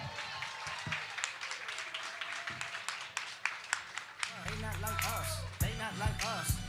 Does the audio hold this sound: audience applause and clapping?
yes